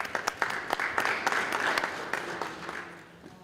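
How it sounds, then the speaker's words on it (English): Applause from the audience at a youth parliament session for the youth representatives, a crowd of clapping hands with sharp individual claps rising and fading over a few seconds at moderate loudness. "let's give them as well a round of applause"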